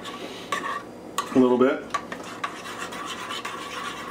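A spoon scrapes and clinks around inside a metal pot, stirring a thick Brunswick stew in short bursts, with a few brief spoken words over it.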